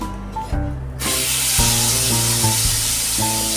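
Potato and soybean chunks hit hot oil seasoned with cardamom, cinnamon, cloves and bay leaf, bursting into a loud close sizzle that stays steady and crackling.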